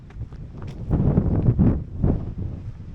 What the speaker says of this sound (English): It's pretty windy again, which is nothing new really, is it?